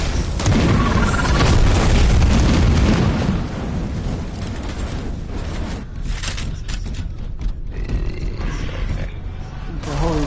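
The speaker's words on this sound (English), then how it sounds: "That thing explodes." A Tyranid creature blows up in a video game with a loud, roaring blast that rumbles heavily for about three seconds, then fades into a quieter, rougher roar and crackle.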